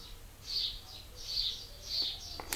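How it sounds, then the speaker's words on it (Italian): Small birds chirping outdoors, three short bright bursts of tweets spaced about a second apart over a quiet low background, moderately near, with a brief knock at the very end. "Ovviamente ci sono gli uccellini"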